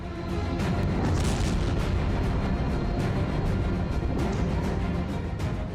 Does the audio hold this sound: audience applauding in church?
no